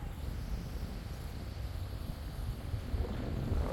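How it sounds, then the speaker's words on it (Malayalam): Strong, cold wind blows outdoors at Rockwood Estate in the Nilgiris hills of Tamil Nadu on a rainy day, a steady low buffeting rumble that swells slightly toward the end, with no voices. "ഭയങ്കര കാറ്റും തണുപ്പൊക്കെയാണ് ഇവിടെ."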